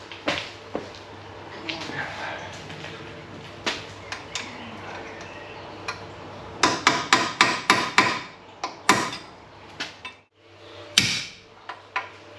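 A hammer strikes metal while punching out a bolt from a Saab 9-5 Aero during a front wheel bearing replacement: scattered single blows, then a rapid run of sharp ringing hits, loud and close.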